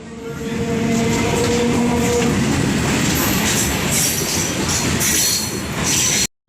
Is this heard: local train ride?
yes